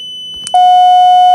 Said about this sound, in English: I'm gonna pull the fire alarm right now.